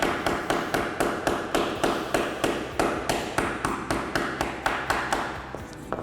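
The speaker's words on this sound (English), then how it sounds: "just keep hammering it until you get it in" Pivot pin struck repeatedly with the back of a screwdriver used as a hammer, a rapid steady series of sharp taps, about three per second, loud and close with no talk.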